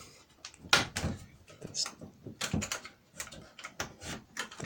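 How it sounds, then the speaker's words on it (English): A door is shifted aside at the back of a converted school bus, several knocks and clunks scattered among brief talk, fairly quiet and close. "Let me see if I can"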